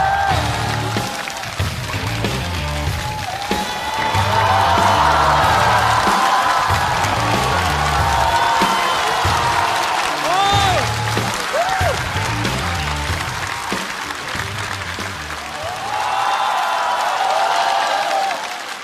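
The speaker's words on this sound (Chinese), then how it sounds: "掌声有请。" A comedy-show audience fills the hall with sustained applause and scattered cheers welcoming a comedian to the stage at a stand-up competition, broad and continuous with some voices and music-like tones mingling underneath.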